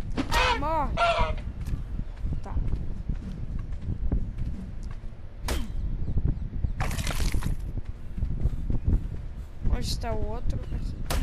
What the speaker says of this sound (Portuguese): Ok, ali nós temos um dodô. Dois dodôs.